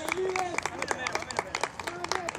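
Crowd applause at an amateur cup soccer match as a Los Toros player is substituted off, sharp scattered claps over a murmuring crowd, with a commentator talking throughout.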